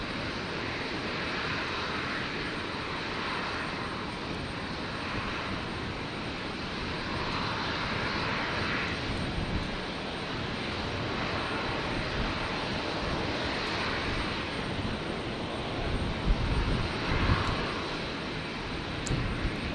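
A Qantas Boeing 737 jet passes over Brisbane International Airport on a stormy night, with a steady distant engine roar and broad rumble holding throughout, gently swelling and fading, with no talk.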